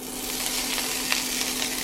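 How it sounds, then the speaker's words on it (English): Spam and ham frying with spring onions in hot cooking oil, a steady broadband sizzle with faint stirring scrapes, alone and close. "We're gonna stir it around until the Spam gets a nice crispy top on it."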